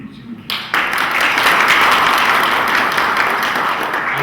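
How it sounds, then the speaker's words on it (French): Audience at a graduation ceremony for inspectors in Djibouti bursts into loud, sustained applause after a quiet opening moment, steady dense clapping filling the room. "On l'applaudit, s'il vous plaît."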